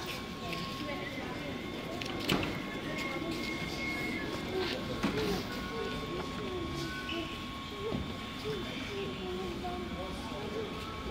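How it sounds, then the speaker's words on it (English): A Class 380 train rumbles through a station, a low steady rolling drone with hiss and occasional clanks from the rails, heard at moderate distance and fairly quiet, with a voice speaking over it. "Finally, there's a train."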